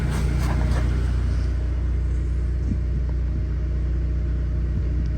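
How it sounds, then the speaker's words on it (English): An 8th-generation Honda Civic engine idles up close after several minutes of running, a steady low rumble with an even hum and no revving. "Car's been running for like 5 minutes already."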